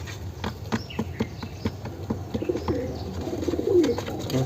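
A sick black pigeon shut in a box cooing low and soft, with pigeons fluttering and scratching nearby in a series of short knocks and rustles.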